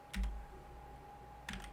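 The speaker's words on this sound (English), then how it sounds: "you're gonna want to click F9 on your keyboard" Two crisp clicks of a key on a computer keyboard, pressed about a second and a half apart, close and isolated over a steady faint electrical hum.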